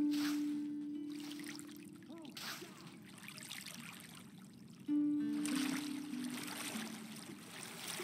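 Bathwater in a tub in Red Dead Redemption 2 trickles and sloshes softly while someone is scrubbed, gentle wet splashes coming in two bursts with quiet background tones.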